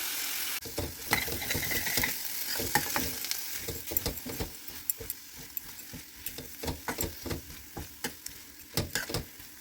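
Wet stirring and scraping of baby corn pieces in a pan over a steady hiss of sizzling gravy, with rhythmic spoon strokes throughout and no voices.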